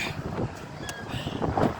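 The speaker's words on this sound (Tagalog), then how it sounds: "Sarap ang hangin. Umpisa na pumasok yung hangin." Steady wind rushing across the microphone, a broad outdoor roar with gusty swells, no voices, recorded from a Caterpillar 966H wheel loader.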